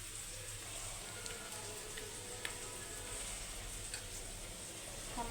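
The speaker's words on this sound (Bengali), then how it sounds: "এটাকে এখন আমি তেলে ভেজে নেব।" Mashed potato fries in hot oil with a soft, even sizzle, a steady hiss scattered with faint ticks and pops at low volume.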